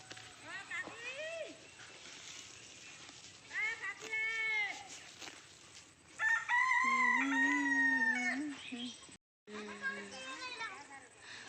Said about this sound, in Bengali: দেখো বিকালবেলাও মুরগা ডাকে